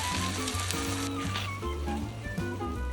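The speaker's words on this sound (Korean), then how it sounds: "자, 요정도 양파 볶아지면 아까 걸러놓은 옥수수 액기스를 넣어줄게요." Corn extract poured into a pan of sautéed onions sizzles and bubbles steadily at moderate volume, a continuous close frying hiss with a few pops.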